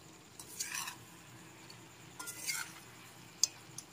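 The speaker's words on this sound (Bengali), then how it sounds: "সবকিছু নেড়ে চেড়ে ভালো করে মিশিয়ে নিতে হবে।" Greens being stirred in a pan with fried fish head, bori and green chillies, heard as quiet scraping strokes and a few light clinks of the utensil against the pan, with soft sizzling beneath.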